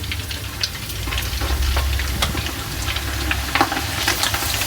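Flattened rice (poha) fries in hot oil, giving a steady close sizzle with small crackles and pops throughout.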